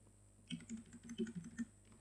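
HTML code is typed on a computer keyboard, heard as a faint, quick run of soft key clicks for about a second and a half against a quiet hum.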